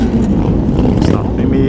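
A motorcycle engine revs hard at close range at a large Houston motorcycle meet, a loud, dense roar that fills the short moment with no pause.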